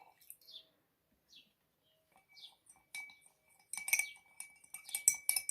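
Metal spoon stirring a salt and water solution in a container during a simple home experiment, sparse light clinks at first, then quicker, louder taps and scraping against the glass toward the end, with no voices.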